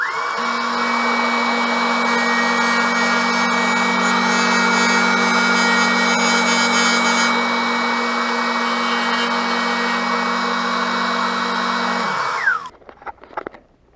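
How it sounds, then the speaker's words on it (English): A belt sander grinds ridges off a motorcycle throttle tube on a CBR500R, a loud, steady abrasive whine with a constant motor hum that runs unbroken and close before winding down and cutting off with a few clunks at the end. "All I did basically was use my belt sander, kind of put it right here to sand away all of those ridges."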